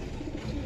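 A border pigeon gives a brief, low, soft coo at close range, with no other voices around it.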